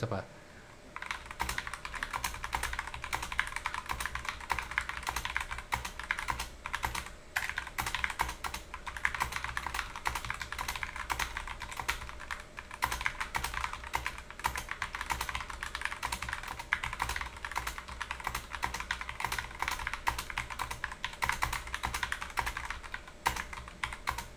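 Fast, continuous typing on an Aula F3287 budget computer keyboard, a close and steady stream of key clacks with short pauses between bursts.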